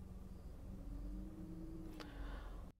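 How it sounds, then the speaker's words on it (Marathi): A Maruti Suzuki Swift CNG engine runs with a steady low droning hum heard from inside the cabin, joined by a brief sharp click near the end before the sound cuts off. "आवाज सुद्धा तुम्ही ऐकू शकता की गाडीचा इंजिनचा आवाज येतोय"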